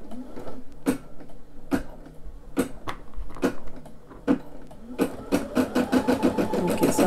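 Brother SE600 embroidery machine stitching with gray and silver thread, a close mechanical whir broken by sharp repeated clacks, sparse at first and then quickening into a dense run of taps.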